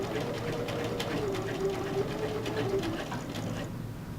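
Sewing machine stitching back over earlier stitching, a fast, even mechanical rattle running steadily for several seconds before easing off near the end.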